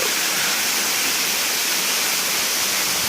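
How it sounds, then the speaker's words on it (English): A waterfall roars as a steady, broad rush of falling water, loud and unbroken throughout with no voices. "It's a beautiful waterfall."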